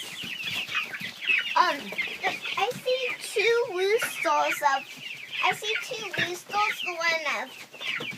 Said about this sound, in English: We ended up with 2 roosters and a hen